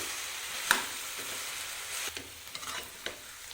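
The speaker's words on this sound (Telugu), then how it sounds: "ఒక రెమ్మ కరివేపాకు ఒక పావు టీ స్పూన్ అంతా పసుపుని కూడా వేసుకొని బాగా కలుపుకోవాలి" Brinjal curry being stirred in a pan after curry leaves and turmeric are added, with a sharp clink of the spoon early on and scraping strokes over a soft, steady sizzle; no talking.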